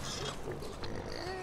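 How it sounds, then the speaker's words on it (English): Pigs oink and grunt in a barn area in Farming Simulator 2015, a steady dense stretch of game animal noise with no pause, fairly loud and close. "And this sounds like pigs."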